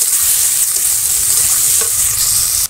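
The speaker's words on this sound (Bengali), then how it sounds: "পেঁয়াজটা লাল লাল করে ভেজে নেব।" Chopped onions fry in a pan with cumin and bay leaf, a steady loud sizzle with stirring scrapes running without a break and ending abruptly.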